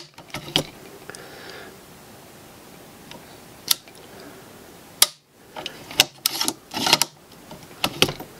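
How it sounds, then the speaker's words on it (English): The bolt of a Remington 700 rifle fitted with a Jewell HVR trigger is worked by hand, giving a series of sharp metallic clicks and clacks that are sparse at first and then bunch together near the end. "Let's make sure that the bolt works okay."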